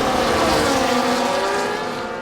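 Sauber Formula 1 car from F1 24 overtaking at Silverstone, a loud sustained high engine whine with rising harmonic tones, close and continuous, with no voices.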